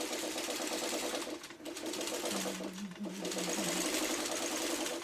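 A sewing machine stitches a Dresden quilt piece in a continuous, fairly quiet whir of fast, even needle strokes, with a short dip in the middle before the steady running resumes.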